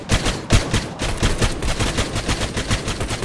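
Sustained automatic gunfire in the military shooter ArmA 3, a dense run of rapid, loud bursts with sharp individual shots throughout and no talk.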